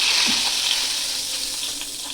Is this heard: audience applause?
no